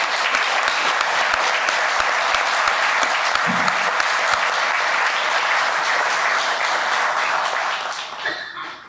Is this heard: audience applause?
yes